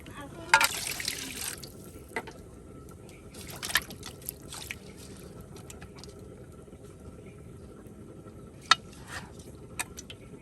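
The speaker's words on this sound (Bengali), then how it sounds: "প্রত্যেকটি থালা বাটি দেখুন মাছ শুটকি সব কিছু যেন একদম সুন্দর করে দৌত করে দিচ্ছে।" Plates, bowls and dried mola fish are washed in water in a Bengali village kitchen, with soft splashes, trickles and occasional clinks and drips under a faint background murmur.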